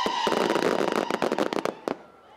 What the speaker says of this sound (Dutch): Sowieso, vuurwerk afsteken is gewoon oud en nieuw,